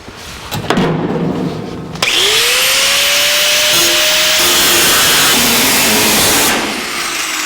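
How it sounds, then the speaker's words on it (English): Power tool cutting excess sheet metal from the trunk floor of a 1949 Chevrolet gasser, a steady loud grinding whine running for several seconds after a brief start, then easing off near the end. "Now we can start cutting out some of this excess metal."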